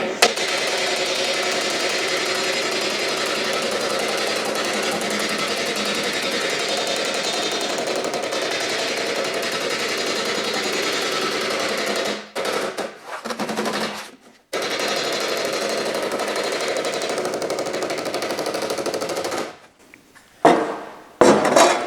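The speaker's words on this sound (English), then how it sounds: "go along here and knock the rest of that flange up along the way" A sheet metal flange on a car front apron is hammered in a fast, dense stream of metallic blows, loud and close, with a few brief pauses near the end.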